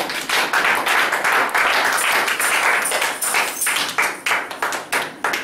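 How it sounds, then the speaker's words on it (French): A church congregation breaks into sustained clapping and cheering in acclamation for the Lord, a dense wash of many hands that thins into scattered, separate claps near the end. "Acclamation pour le Seigneur"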